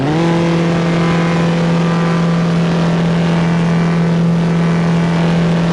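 Dodge Challenger Hellcat on a drag-racing run, a loud sustained engine drone at steady pitch with no talk over it.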